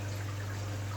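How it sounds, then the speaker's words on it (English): Tap water trickles steadily into an indoor koi pond in one corner, a soft, continuous splashing hiss under a constant low electrical hum, with no voices. "I've got it trickling in at the moment in that corner."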